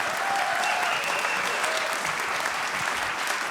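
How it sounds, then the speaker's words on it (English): Sustained applause from an audience at a panel discussion event, a dense, even wash of clapping that holds steady from start to finish. "A round of applause for all the guests."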